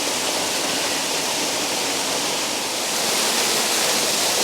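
A waterfall roaring at close range, a dense, loud, unbroken rush of falling water filling every moment.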